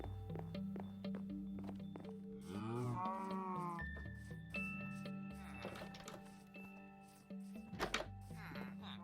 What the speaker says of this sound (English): Okay, there are cows there.